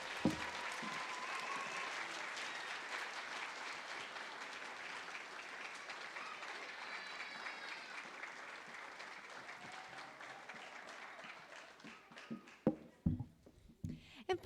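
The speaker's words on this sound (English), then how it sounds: "Would you please give a nice round of applause to Mr. Smiley, Mrs. Jason, and Mrs. Eberly." An audience claps steadily in sustained applause at a primary school musical for about twelve seconds, then it thins out into a few scattered claps and faint murmurs.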